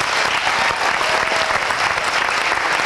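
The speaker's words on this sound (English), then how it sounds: "let's give a round of applause for Michael." A crowd at a college video contest winners' event gives a round of applause, a loud, dense and even roar of clapping that holds steady throughout.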